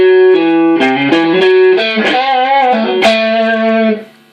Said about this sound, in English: into the Crunch Box by MXR, which is my distortion